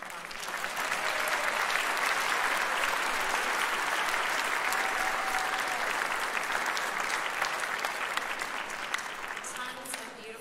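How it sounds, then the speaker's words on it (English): Steady, dense applause from a large crowd for students at a school winter fine arts festival, sustained clapping that fills the whole stretch without a break. "Give those students a big round of applause."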